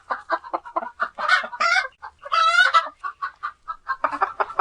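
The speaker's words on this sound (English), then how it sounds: "hen" A hen clucks close by in a run of short, uneven clucks, broken by a couple of longer, rising squawks. There is no talking.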